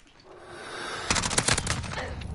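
Video game gunfire comes in a quick, loud automatic burst that rises out of a softer background and continues for about a second.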